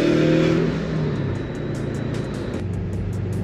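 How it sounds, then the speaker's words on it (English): A Subaru Legacy GT wagon driving with extra driveline noise after new polyurethane bushings, a loud close engine hum with shifting tones and a steady road rumble underneath. "I've got a little more driveline noise than I'm used to"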